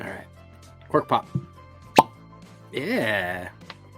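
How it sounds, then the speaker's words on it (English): A cork pulled from a Barrell Bourbon bottle of 9-year MGP single barrel whiskey gives a sharp single pop near the middle, with a voice speaking before and after it. "Cork pop."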